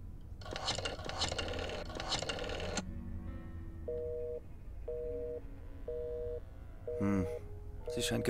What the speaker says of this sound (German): Ich wollte nur meine Mutter anrufen, aber es war besetzt.